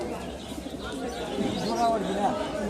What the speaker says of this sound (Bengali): কালো গলা নর কবুতর দেখাচ্ছি আপনাদের